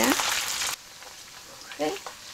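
Pork belly fries in hot oil for a fermented red bean curd dish, with a loud burst of sizzling at first. It drops to a quieter crackle, and a short voice cuts in briefly.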